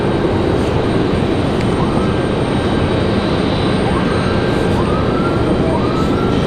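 A Delta jet arriving from Orlando on landing approach at Raleigh-Durham airport gives a steady, broad engine roar that holds loud and continuous from start to end, with no talk over it.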